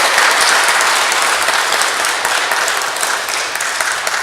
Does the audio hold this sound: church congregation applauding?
yes